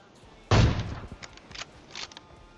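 Gunfire in PUBG Mobile, one sharp, loud shot followed by a few fainter scattered reports, with some talk around it.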